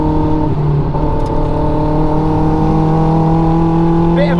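A stripped race car at the Castle Combe circuit holds a loud, sustained engine note from inside the car. The pitch shifts slightly as it works through the corner.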